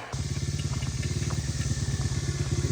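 A small motorbike engine runs close by with a rough, pulsing low putter, its beat uneven as it bogs down at low speed, steady throughout with no voices over it.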